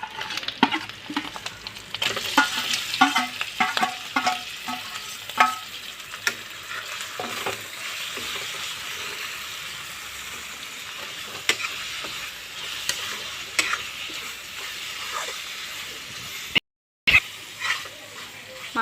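Meat and spices fry in a pan with steady sizzling, broken by repeated sharp scrapes and knocks as a spoon stirs them. The sizzle is close and moderately loud, and it drops out once for a very short moment near the end.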